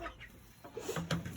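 Backyard chickens in a small bantam and standard flock cluck and call nearby, several short bursts spread across a brief moment with no talking.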